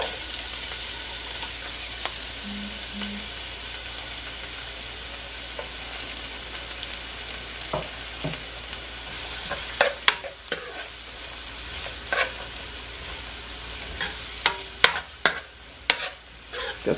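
Onion and garlic sweat in a pan as the base of a Caribbean callaloo rice dish, a low continuous sizzle with scattered scraping and clinking of a utensil stirring against the pan, growing busier toward the end.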